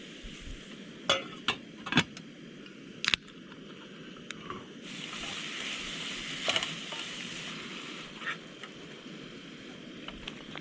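Veggie burger sizzles in butter in a pan at a solo motorcycle camp, a steady frying hiss swelling midway, broken by sharp clicks and scrapes from utensils, with no one talking.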